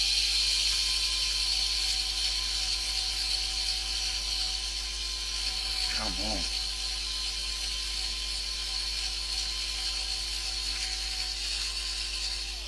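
A cordless battery drill bores steadily into a stubborn rivet on a Dinky 481 Bedford diecast toy van, its motor whining continuously up close, with a brief spoken word partway through.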